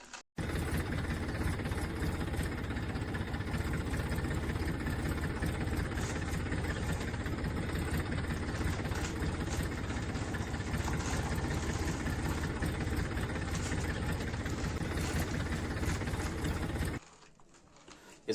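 A yellow toy tractor runs with a steady, buzzing motor whine, continuous and fairly close for about seventeen seconds before cutting off abruptly.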